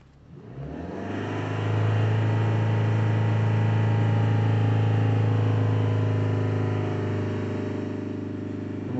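A Ford Transit MK8 van's engine starts and settles into a steady, loud idle drone for a static DPF regeneration, with no one talking.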